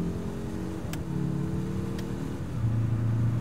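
A 2021 Mazda 3 Turbo engine hums steadily under load, its pitch rising and then dropping as the transmission shifts early, with a brief change in tone near the end.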